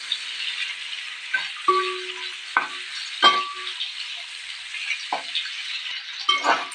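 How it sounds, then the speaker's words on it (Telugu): Pieces of dried fish fry in oil for a Telangana-style dried fish curry, a bright sizzling hiss punctuated by several metallic clinks and scrapes as they are stirred. "ఇట్లా మంచిగా వేయించుకోవాలి."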